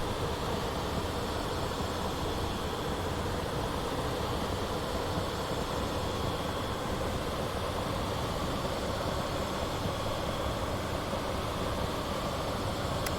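Train engine in Train Simulator 2021 on the Welsh Marches Line between Newport and Shrewsbury: a steady, dense diesel drone with track rumble, constant and loud throughout, with no talk.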